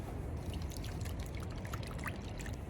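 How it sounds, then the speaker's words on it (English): Running tap water splashes and trickles steadily over gooseneck barnacles foraged on the Oregon coast as they are rinsed, a close, continuous watery wash with no talking. "I'm just going to give them a quick rinse."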